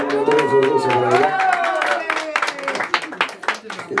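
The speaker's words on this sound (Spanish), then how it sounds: "Y el aplauso" An audience claps and cheers at a birthday party with a mariachi performance, a fairly loud burst of clapping with voices talking and calling out over it throughout.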